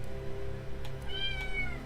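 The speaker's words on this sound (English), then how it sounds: "You meow too much." A house cat meows several times over a steady low hum, the calls rising and falling in pitch and sounding close and clear, with brief pauses between them.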